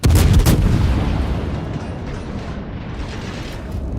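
Naval gunfire from warships in World of Warships opens with a loud, heavy boom, then a booming salvo that decays into a long rumbling tail with mechanical rattle and a few fainter later reports.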